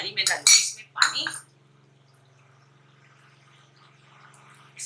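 Water from a cup is poured into frying masala in a pot for Pakistani nargisi kofta, giving a short splashing, sizzling burst up close that quickly settles into a quiet background hum.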